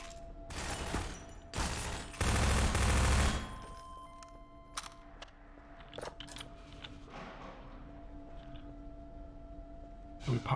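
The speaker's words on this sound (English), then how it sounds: "Switch back to the machine gun." Machine gun fire in Half-Life 2, dense rapid bursts at the start with a heavy sustained volley, then quieter scattered shots and mechanical clicks over a steady low hum.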